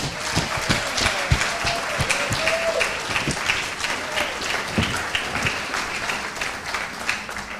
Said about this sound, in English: let's all give our new members a big round of applause